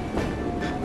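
A train rumbles and rattles steadily in the Assassin's Creed Syndicate video game, a loud continuous rolling clatter with a faint hum throughout and no clear pauses.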